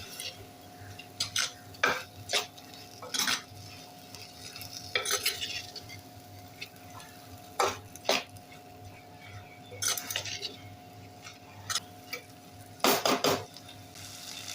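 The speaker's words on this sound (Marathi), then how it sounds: "एक वाटी स्वच्छ धुवून घेतलेला तांदूळ घालूया मी इथे लांब तांदूळ वापरला आहे तुम्ही कोलम तांदूळसुद्धा वापरू शकता छान दोन तीन मिनटं परतून घेऊया" Washed long-grain rice being sautéed in a pan for prawn khichdi, with scattered scrapes and clinks of a spatula over a quiet, low sizzle, close and intermittent.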